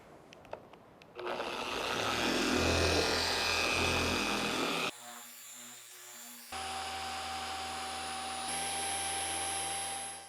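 A car polisher at speed setting 6, with an orange Hexology cutting pad, works V36 polish into paint to remove bird stains. It gives a loud steady whirring drone that cuts off briefly midway, then resumes with a higher, thinner tone.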